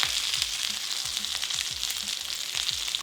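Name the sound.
chicken confit skin searing in a pan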